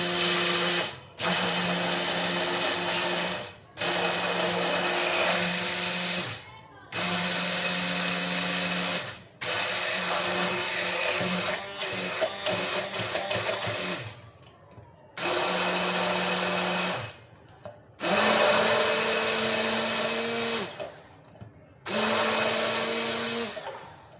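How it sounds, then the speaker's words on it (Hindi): Blender whirring through a homemade night cream mixed with rose water, loud motor bursts of a few seconds each, cut by short pauses, repeated about seven times. "और हम इसको ब्लेंड करेंगे।"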